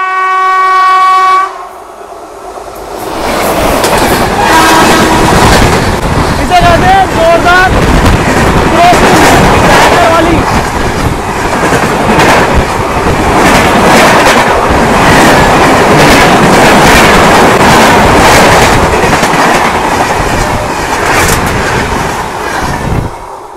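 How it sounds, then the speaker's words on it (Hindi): The Pawan Express comes in fast with a loud horn blast, then a heavy roar of wheels and rushing carriages close by, with a rhythmic clatter that continues as it passes, and voices speaking faintly underneath. "आ गई वहाँ से पवन एक्सप्रेस, बड़ी तेज़ी से आ रही है।"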